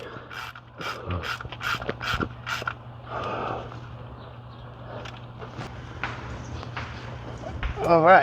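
A torque wrench ratchets on the transmission pan bolts of a 2018-or-later Ford Expedition with a 10R80 gearbox, sending a quick run of sharp clicks up close at first, then quieter mechanical handling as someone speaks briefly.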